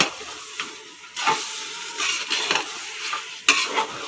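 Mutton biryani masala is stirred in a sizzling pan, with a spoon scraping in uneven strokes over a constant frying hiss; nobody speaks.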